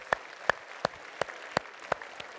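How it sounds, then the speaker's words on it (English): Hands clap in a steady, evenly spaced beat, seven or so sharp claps in unison over a faint background hush. "give yourselves a big round of applause"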